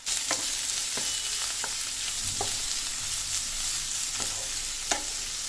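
Shredded cabbage fries and sizzles steadily in a pan, with scattered clinks and scrapes as it is stirred, steady and fairly loud with no talk.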